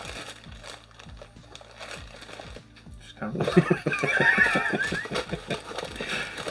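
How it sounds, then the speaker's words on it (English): A bag rustles and crinkles close up, busy and continuous, with louder crackling bursts in the second half over a steady low background hum. "You just keep rustling your bag, mate."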